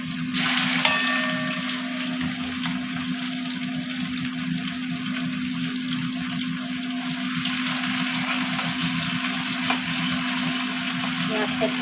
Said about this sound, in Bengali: পেঁয়াজটা অনেকটা ভাজা ভাজা হয়ে এসছে